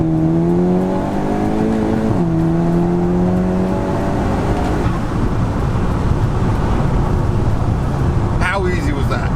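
VW Golf GTI-R launching hard in a drag run, engine note rising steadily through gears then a roaring, noisy surge, with people talking over it.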